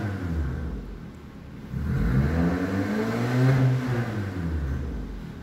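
A Suzuki Ciaz fitted with a solenoid-operated exhaust cutout valve revs up from a low idle rumble into a rising, sustained engine roar that peaks and eases back, heard close and alone.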